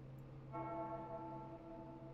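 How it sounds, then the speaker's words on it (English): A faint bell rings once at a NASCAR Xfinity Series race before the start, its tone lingering, sustained and ringing out softly over a low background hum. "You can hear those bells ringing in the background."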